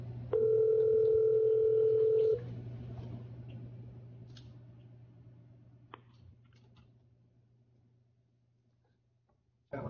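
A business desk telephone on a conference system gives a steady dial tone for about two seconds while adding a caller, then faint clicks and line hiss follow before a tone returns at the end.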